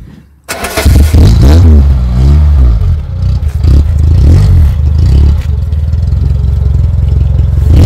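A 1991 Peugeot 205 Junior engine cranks and catches, then is revved hard several times in quick bursts, each rise and fall loud and close, before settling into a rough idle.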